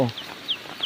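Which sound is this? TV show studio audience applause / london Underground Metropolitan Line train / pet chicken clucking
pet chicken clucking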